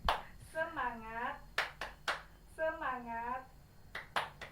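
A group does a spirit clap (tepuk semangat): short rhythmic bursts of hand claps alternate with chanted voices, fairly faint and roomy.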